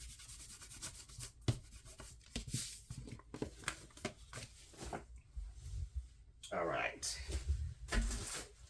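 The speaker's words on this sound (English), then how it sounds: "I'm going to give this a much better burnish than what I did originally" Rubbing strokes of a burnishing tool over a paper card, repeated scraping swipes close to the microphone while making a handmade card, with a brief crinkly paper handling sound near the end.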